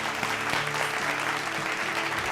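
A studio audience on a television show claps loudly and continuously to welcome a guest, a dense wash of applause with faint voices underneath.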